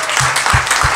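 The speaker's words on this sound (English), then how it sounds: "Everybody, round of applause." Steady, dense applause from a large church congregation, loud and continuous throughout.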